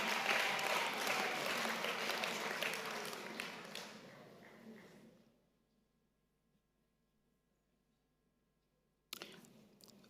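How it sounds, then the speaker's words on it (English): Audience applause for a choir at a university's tenth-anniversary celebration, loud sustained clapping that fades out over about five seconds into near silence, then a brief sharp burst of sound at the end. "Can we give them just a round of applause"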